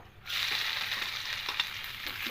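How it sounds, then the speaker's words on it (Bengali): Whole cumin and dried red chillies hit hot oil and burst into a bright, close sizzle that holds steady, with light crackles and a faint clink of stirring. "এবার তেলের মধ্যে ফোড়নে দেব গোটা জিরে আর দুটো শুকনো লঙ্কা দেবো"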